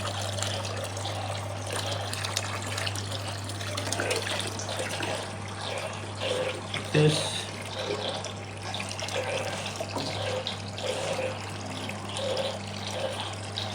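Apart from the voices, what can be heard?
aquarium gravel vacuum sucking water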